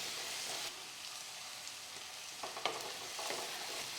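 Sliced onion sautés in oil in a pan, with a soft, steady sizzle, faint and fairly distant, and a few light stirring scrapes and taps near the end, with no voices.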